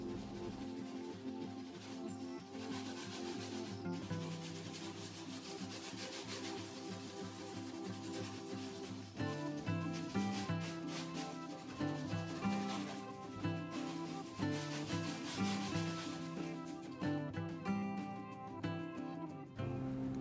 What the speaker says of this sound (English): Erase, erase, erase, brush off, erase, brush off.